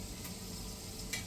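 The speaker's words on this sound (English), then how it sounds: "don't know if you hear this sizzling" Food frying in a pan in a home kitchen sizzles as a dense, steady hiss of crackles, close and continuous with a brief sharper pop near the end.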